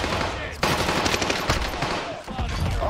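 An MP40 submachine gun fires in the video game Warzone, producing loud, dense, sustained automatic bursts that fill the whole stretch with rapid rattling shots.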